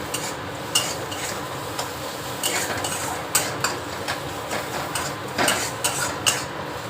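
Spices and chopped coconut fry in a pan for aloo chop filling, a soft steady sizzle broken by repeated scrapes and knocks of a spoon stirring against the metal, close and moderately loud.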